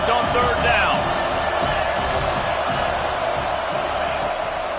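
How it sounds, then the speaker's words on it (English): A stadium crowd roars steadily and loudly during a third-down defensive stand at a football game, a dense continuous wall of cheering with occasional whoops and a commentator's voice talking over it. "Decibels rising as the crowd gets behind this defense on third down."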